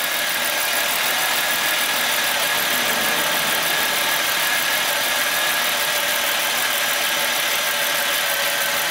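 A GM car engine running at a steady idle nearby, a loud, continuous mechanical hum with a faint ticking texture, the vehicle being diagnosed for a large EVAP leak fault code, with no talking.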